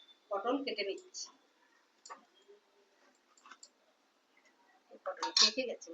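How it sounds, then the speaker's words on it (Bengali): A knife chops pointed gourd (potol) in a home kitchen while preparing Bengali mutton curry. A few sparse, dry taps fall between stretches of nearby talking. "পটল ভাজা হবে, পটল কেটে নিচ্ছি।"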